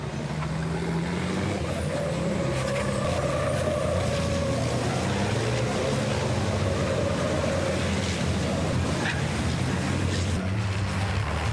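Race cars overtake on a circuit, a steady blended engine drone with shifting whine and rumble, heard from trackside at moderate distance with no clear voices over it.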